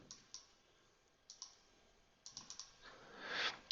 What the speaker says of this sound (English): I'll right click, delete this point.